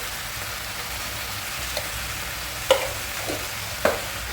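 Tomato pieces frying and being stirred in a pan for a dried fish curry, a soft steady sizzle with a few faint scraping knocks from the spoon, no voices.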